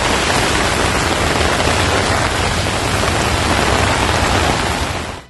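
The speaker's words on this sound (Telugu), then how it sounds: "ఎడతెరిపి లేకుండా కుండపోత వర్షం కురుస్తోంది." Heavy rain pours down without pause in a dense, loud, unbroken hiss across the whole stretch, with no voices.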